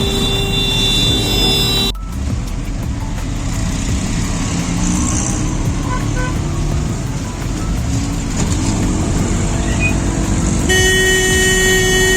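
Loud road traffic roars past on a road-and-rail bridge in Varanasi, with vehicle horns tooting at the start and end, engines rumbling close and continuous.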